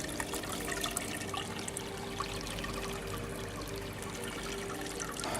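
Water runs and trickles steadily into an enclosed, dark rainwater cistern, a continuous splashing wash with no voices.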